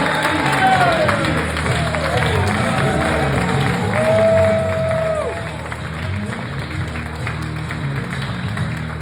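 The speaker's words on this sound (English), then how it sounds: "stand up and give a big round of applause" A standing crowd at a sales training event applauds and cheers, with loud sustained clapping and whoops and whistles that gradually ease off, a voice speaking over it.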